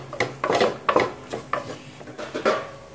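Masala powder fried in oil in a pan while a spoon stirs it, with scraping, clinking strokes against the metal in uneven bursts and a soft sizzle underneath, close and alone.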